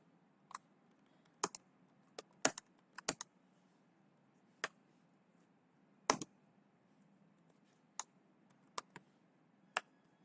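Sparse keystrokes on a computer keyboard while C# code is typed, quiet isolated clicks and short clusters of two or three spread over the whole stretch, with no talking between them.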